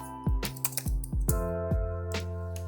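Keys on a computer keyboard tapped in a quick irregular run of a dozen or so close, crisp strokes while a Windows terminal command is entered, with no voice over them.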